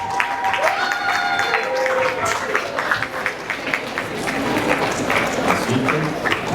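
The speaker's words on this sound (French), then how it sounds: "Encore un tonnerre d'applaudissements" Applause at a school literary and patriotic contest ceremony: a crowd claps continuously with sharp individual claps standing out, while faint voices and brief tones sit underneath.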